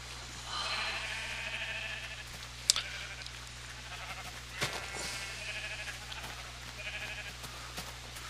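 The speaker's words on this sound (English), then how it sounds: "these are sheep I gathered or bred" Sheep on a video game sheep farm bleat repeatedly, several wavering calls spread across the stretch over a steady low electronic hum, with a few faint clicks in between.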